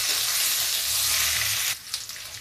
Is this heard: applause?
no